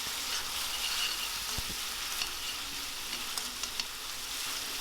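Ginger garlic paste sizzles steadily in a hot pan, a loud continuous frying hiss broken by a few sharp clicks of stirring, with no voices.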